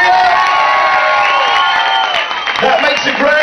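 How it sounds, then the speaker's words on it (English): A lively crowd of children and adults cheers and whoops loudly and continuously at a party game, with excited shouting voices filling the moment. "Give her a cheer."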